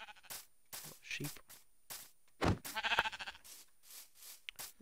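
Sheep bleat in a video game, with several short wavering bleats scattered across the moment and one longer, louder quavering call in the middle, all close and clear against near silence.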